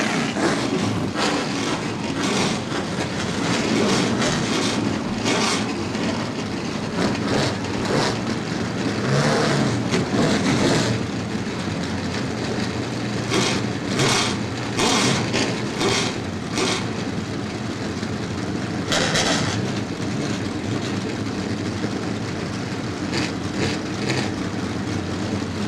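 Race trucks from the ARCA Truck Series fire up together at Winchester Speedway, a dense, loud wall of engine roar with repeated revving bursts that holds steady throughout.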